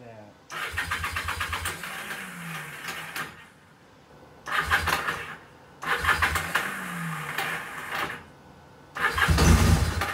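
A Kawasaki KZ750 motorcycle engine cranks and starts three times, each start rattling briefly before settling into a rough idle, with pauses between attempts.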